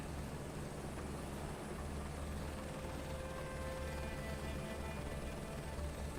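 Helicopter in Microsoft Flight Simulator 2024 setting down near tree lines, a steady droning rotor and engine hum with low thrumming, constant and moderately loud throughout, no voices.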